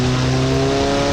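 F1 car fitted with a 1.9 TDI diesel engine, running with a steady, loud, droning engine tone at constant revs, close up and continuous, with no talking.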